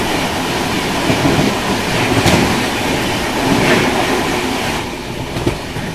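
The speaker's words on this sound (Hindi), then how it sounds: "बगल से ही क्रॉस हो रही है सुपौल पुणे एक्सप्रेस" Supaul–Pune Express passing alongside on the adjacent track near Patna Junction, heard from inside a moving train: a loud, continuous broadband rumble with rhythmic wheel clatter and faint squeal, steady throughout.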